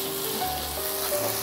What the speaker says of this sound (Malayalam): പുതിനയിലയും അതുപോലെ അതും കൂടി ചേർത്തൊന്ന് ഇളക്കി കൊടുക്കാം